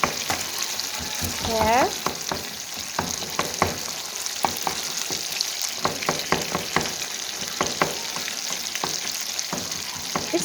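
Chicken being mashed and stirred in a sizzling pan for a restaurant-style charsi karahi, steady frying hiss with repeated scraping and tapping strokes of a spoon, close and fairly loud, a brief voice near the start.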